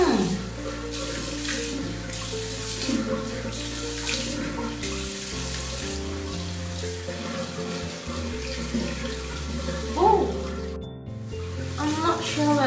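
Running tap water streams steadily into a sink while a face mask is rinsed off, splashing and shifting close by, and background music plays underneath.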